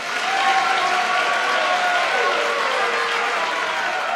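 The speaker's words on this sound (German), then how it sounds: "Ich denke, das ist doch einmal einen donnernden Applaus wert," Thunderous audience applause at a German political satire show, a dense, steady wash of many hands clapping that stays loud and even for several seconds with no voices over it.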